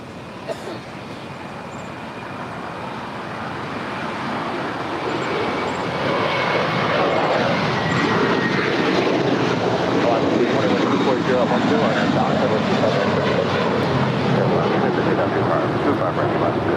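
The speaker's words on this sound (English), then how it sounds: "It's an A321 now rolling down 25 right." JetBlue Airbus A321 rolling down runway 25 right at LAX for takeoff, a broad jet roar building steadily louder and holding strong, heard from a distance across the airfield.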